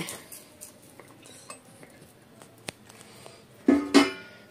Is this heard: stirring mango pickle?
yes